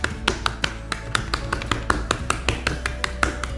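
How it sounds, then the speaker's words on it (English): Fingertips rapidly patting and paddling a raw beef tenderloin, a quick, even series of close, soft wet taps, roughly five per second, with no voices. "with my fingers actually start to paddle the meat"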